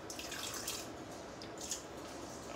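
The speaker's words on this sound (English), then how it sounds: "pour the pickle juice in here." Pickle juice poured from a jar into a container for a copycat Chick-fil-A recipe, a faint, steady trickling splash running unbroken for a couple of seconds with no voices.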